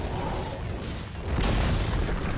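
The Dire's top tower collapsing in Dota 2, a deep rumbling boom that swells midway and holds heavy and loud, with battle noise underneath.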